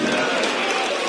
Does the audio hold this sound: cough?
no